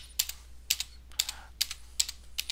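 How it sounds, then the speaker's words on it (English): Quick typing on a computer keyboard, close and fairly quiet, with short clusters of clicky keystrokes arriving in a steady rhythm of about two bursts per second. "So I'm going to quickly type in"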